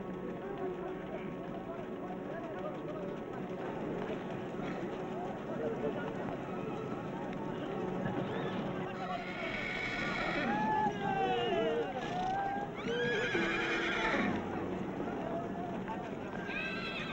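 Horses carrying around two thousand riders at an Afghan buzkashi game in Takhar province make a dense, churning rumble with whinnies rising above it, heard under continuous narration.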